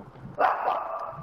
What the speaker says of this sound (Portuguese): É um cachorro normal.